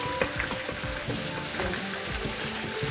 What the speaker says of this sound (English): our oil is heated up. I'll just go ahead and fry the potatoes.